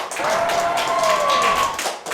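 People gathered at a church meeting clap together in a brief, dense burst, with a voice speaking over the applause.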